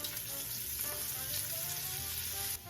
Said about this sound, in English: I'm going to add some pancetta that I have finely diced up.